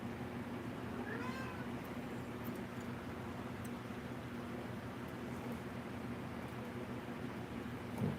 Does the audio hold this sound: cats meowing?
yes